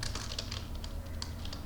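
Rapid clicking of a computer keyboard during typing, with quick irregular keystrokes that are close and clear.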